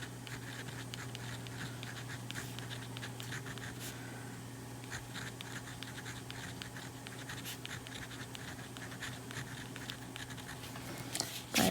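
A fountain pen scratching blue ink onto paper, a quiet steady scraping with a few sharper strokes, close and faint over a low background hum, no talking.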